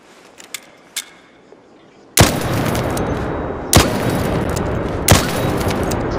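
The Anvil Splitter weapon fires three loud, sharp shots in a video game, each spaced over a second apart and followed by a sustained roar of ambience; a few faint clicks and taps come before the first shot.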